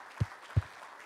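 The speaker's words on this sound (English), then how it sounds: "give God one more big hand clap of praise in here." A church congregation gives two short bursts of hand clapping in praise, each a brief, moderately loud clap-like thud over a quiet room, without speech.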